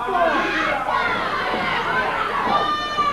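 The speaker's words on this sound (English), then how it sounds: "the crowd cheering Dundee on" Crowd noise at a Memphis wrestling event cheers Bill Dundee on as he holds David Oswald on the mat: a steady, dense roar of voices with shouts rising throughout, an announcer talking over it.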